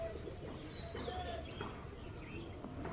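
Pigeons at a home loft, kept as a hobby, coo softly in the background with thin higher chirps from other birds, fairly faint and even throughout.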